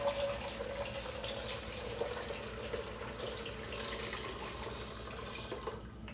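Water running from a tap into a kettle in a home kitchen, a steady broadband splashing rush that holds for about six seconds at moderate volume with no voices.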